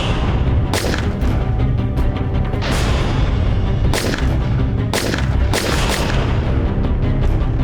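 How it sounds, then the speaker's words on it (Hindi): Several sharp gunshots crack out at irregular intervals over a constant dense background, loud and close, in a staged crime scene of someone being shot at a shop. "मैंने रोहित को गोलियों से मार दी"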